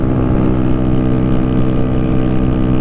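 A Honda Grom motorcycle engine drones steadily at a constant pitch, loud and close, alone with no voices.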